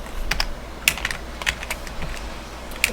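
Fingers type on a computer keyboard in quick, irregular bursts of crisp, close key clicks with brief pauses between them, and no voices.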